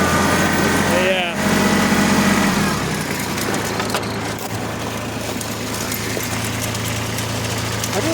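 A Stihl 660 chainsaw idling outdoors during small-scale logging, a steady buzzing engine hum running throughout with a brief higher whine early on, while a person talks over it.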